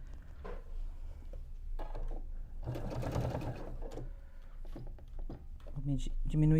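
Sewing machine stitching patchwork quilt blocks of triangles, a steady mechanical whir running throughout at close range, with a louder burst in the middle.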